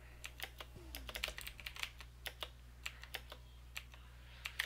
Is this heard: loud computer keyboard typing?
yes